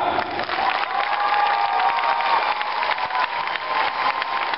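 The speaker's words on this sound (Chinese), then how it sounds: "再给我们用力掌声鼓励一下。" An audience claps steadily and densely at a university dance club's annual showcase, a sustained wash of applause with crowd noise mixed in, loud and continuous from start to finish.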